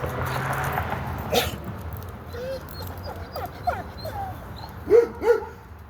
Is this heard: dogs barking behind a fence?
yes